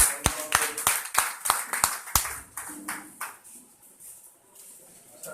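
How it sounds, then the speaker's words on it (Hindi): Applause from an audience at a stage event welcoming a guest: a burst of sharp, fairly close hand claps in quick succession, thinning out and fading into a softer scattered patter toward the end. "फिर से आपकी जोरदार तालियां"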